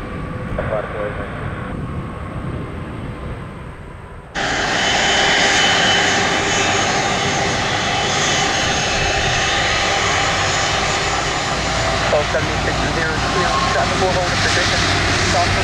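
An airliner takes off from runway 35 left at Orlando International Airport, its engines surging abruptly into a loud, sustained broadband roar that fills the rest of the clip, while radio chatter plays underneath.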